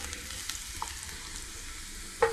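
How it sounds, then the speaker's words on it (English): Garlic sautés gently in oil for a Pacific Island pea stew, a quiet even sizzle with a few light ticks and a sharper clink of a utensil near the end. "the first thing is the oil and our garlic. Just slightly sauteed about 30-40 seconds to give it that garlic flavor."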